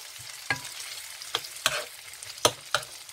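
An egg going into a hot pan with butter, after wholegrain bread was toasted in the same pan, giving a low steady sizzle broken by about five sharp spatula scrapes and clicks, close and alone with no talk.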